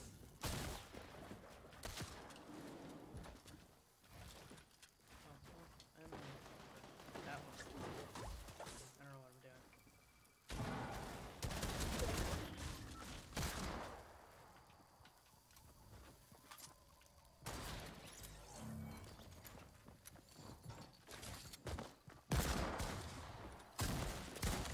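Rapid video game gunfire crackles in dense bursts as a player spams the shoot button, the shots loud and continuous under excited talking and occasional shouts.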